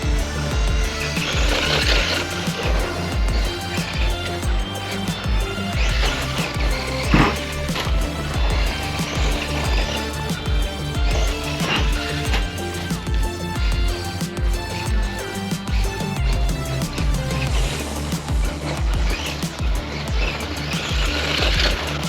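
A four-wheel-drive Tamiya Boomerang RC car with a stiffer front differential whines and buzzes as it drives, its electric motor rising and falling in pitch through repeated bursts of acceleration, close and continuous.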